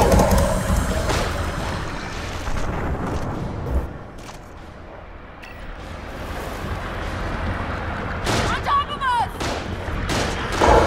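Gunfire in the survival horror game The Evil Within, heavy booming shots and impacts in loose bursts over rumbling game ambience, with a brief sharp crack near the end.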